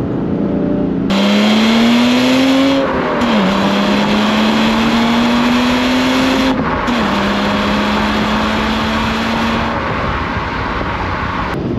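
A BMW M3 E36 with its non-turbo straight-six engine pulling hard, loud and close, revving up through long rising sweeps broken by brief gear-change dips, steady and unbroken throughout without voices.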